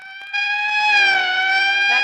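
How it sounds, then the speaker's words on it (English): Emergency siren wailing loud and close, a sustained rising and falling electronic tone that swells after a brief start and holds steady without pause. "That's the fifth siren in the last hour."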